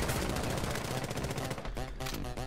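Rapid video-game gunfire crackles loudly and continuously, with dense bursts of shots layered over game music and effects; no speech.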